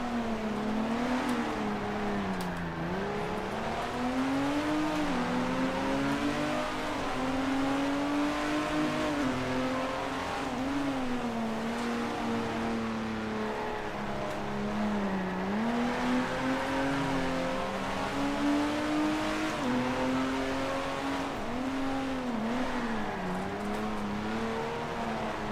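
Racing car engine in Grand Prix Legends, 1955 F1 era, howling continuously with the pitch rising and dipping through gear changes and corners, with faint tyre noise and no talk.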